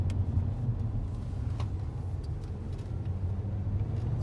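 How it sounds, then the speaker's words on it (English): A truck drives down a road, heard from inside the cab as a steady, even low rumble of engine and road noise with faint ticks, and no voices. "We'll get on the brakes here pretty hard and show you there's no pulling or anything weird with it."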